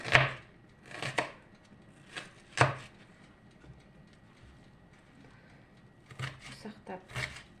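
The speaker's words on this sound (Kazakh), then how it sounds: "Осылай жуамызды ұсақтап турап дайындап қойдық." A knife finely chops onion on a board in a home kitchen, sounding as a few separate bursts of quick, crisp cuts near the microphone with quiet pauses between them. No one talks.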